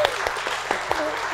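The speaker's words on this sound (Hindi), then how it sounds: "तालियां हो जाए भाई हमारे" Studio audience clapping for a guest during an interview, a short scattered burst of claps with talk running underneath.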